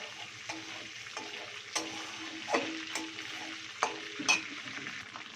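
Spices and dried red chilli sizzle in hot oil as a tempering for doi prawn, a soft steady crackle broken by several brief clicks and stirring scrapes, quiet and close with no talk.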